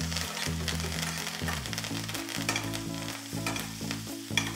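Continuous sizzling and spattering of steak frying in butter with thyme, rosemary and garlic in a hot pan, steady and close, with a low hum underneath.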